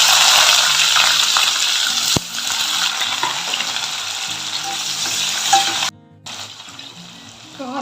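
Onion with mustard seeds and lentils sautés in hot oil for rava kichadi, giving a loud, constant sizzle with occasional stirring scrapes, one sharp clack, and a brief cut-out near the end.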